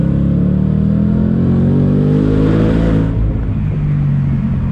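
A 2021 Shelby GT Speedster Mustang convertible's V8 revs hard on throttle, a loud, close, sustained roar that climbs in pitch and then eases back slightly near the end.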